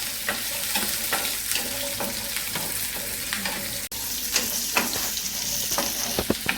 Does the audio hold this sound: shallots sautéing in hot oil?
yes